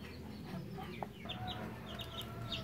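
A hen and rooster cluck softly in a backyard coop, with scattered short calls and one brief louder cluck over low steady background noise, fairly faint and distant.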